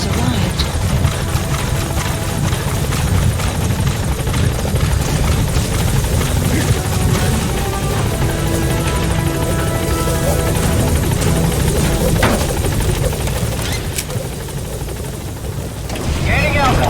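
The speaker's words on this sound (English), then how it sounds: "Support helicopter has arrived." A support helicopter arrives in the Metal Gear Solid V video game, its loud rotor thumping and engine roar filling the scene steadily, with game radio voices speaking over it.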